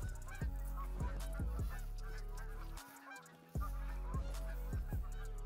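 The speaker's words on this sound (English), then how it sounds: "Lots of geese flying over today." Geese honk loudly and steadily in a hunting video game set on the Revontuli Coast, a flock calling repeatedly as it passes overhead, with a brief dip to quieter ambience midway before the honking resumes.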